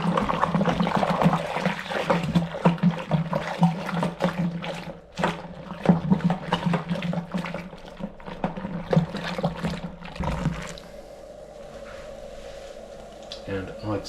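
Water splashes and sloshes vigorously inside a homebrew beer fermenter to aerate it, a loud churning wash with choppy bursts that settles into a calmer trickle and fill near the end.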